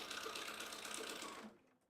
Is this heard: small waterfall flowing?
no